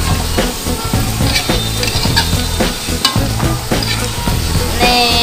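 Potatoes fry into french fries in hot oil, a loud, dense, continuous sizzle with rhythmic stirring clatter and scraping.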